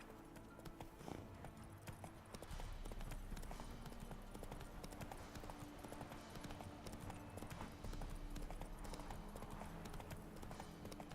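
A horse's hooves in the video game The Witcher 3 clip-clop in a steady, continuous rhythm, close and fairly loud over a dense bed of game ambience and music.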